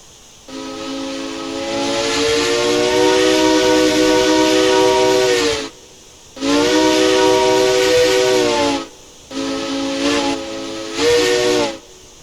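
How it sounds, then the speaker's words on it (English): A loud steam locomotive whistle in the Railroads Online video game, sounding as three long blasts. The third blast breaks into two parts, and a hiss carries under each blast. No one speaks. "New whistle, not bad."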